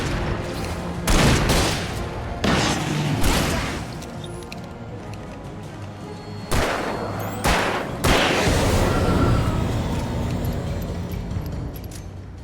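Gunfire in the video game Alan Wake Remastered, with several loud broadband bursts spread through the clip over a steady game backdrop, some close together and others spaced a few seconds apart.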